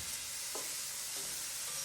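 Steak-umm sirloin sizzles in a pan with its packet stuck to the meat, giving a steady hiss with a couple of faint stirring scrapes and no talking.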